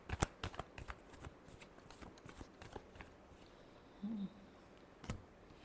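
Tarot cards are shuffled by hand in a quiet room, a run of soft, rapid riffling clicks and flutters, close and faint, with a few sharper snaps and a brief low hum partway through.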